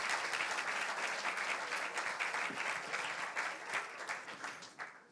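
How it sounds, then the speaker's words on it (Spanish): Congregation applause during a church sermon, a full, steady wash of clapping lasting several seconds, fairly distant and consistent, with no talking over it. "Si le va a dar el aplauso, déselo mejor en esta mañana."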